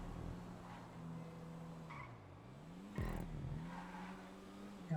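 A car in GTA V oversteers on a hillside road, its tires screeching in long squeals over a droning engine that dips and revs back up, with a sharp skid burst midway.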